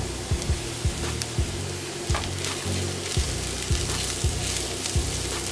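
Constant sizzling of spices frying in hot oil, with occasional soft scraping taps from stirring at a loose, uneven rhythm, close up and no talking.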